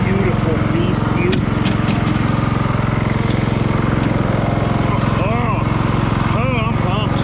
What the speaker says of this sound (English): I'm gonna do a quick mow before I run out of gas